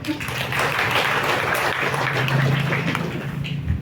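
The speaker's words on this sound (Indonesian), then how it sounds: "tepuk tangan dulu" An audience at a government agricultural coordination meeting applauds the deputy regent, a continuous wash of clapping over a low murmur of voices and room hum.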